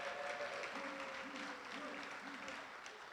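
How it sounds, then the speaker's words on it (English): A crowd at the opening of a 2019 men's empowerment summit applauds steadily throughout, a dense wash of clapping with a faint tone underneath. "how about a nice round of applause"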